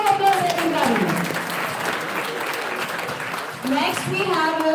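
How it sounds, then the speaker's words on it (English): An audience at an international conference in Pune claps for research paper presentation winners, a full, sustained wave of applause with voices faintly mixed in, dipping briefly before swelling again. "Big round of applause, everybody."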